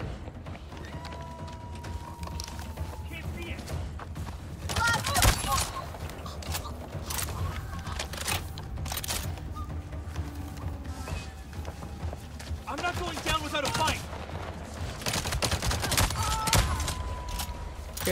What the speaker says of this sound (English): The shotgun is not too shabby,